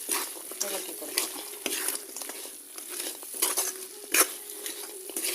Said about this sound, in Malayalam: ഫ്രൈ ചെയ്ത് വെച്ചിരിക്കുന്ന ചിക്കൻ ഇട്ട് കൊടുക്കാം. നന്നായിട്ട് ഇളക്കി കൊടുക്കാം.